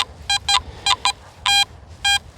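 Metal detector beeping in a series of short electronic tones, about eight clipped bursts at irregular intervals, loud and close over faint low background noise.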